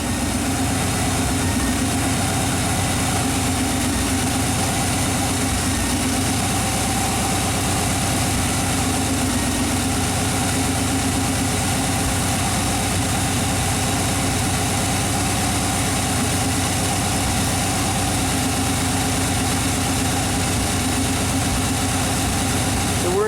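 A classic Chevy engine after a PROM chip swap, idling high at about 1,000 RPM and refusing to settle, giving a steady, loud, continuous drone with a low rumble throughout.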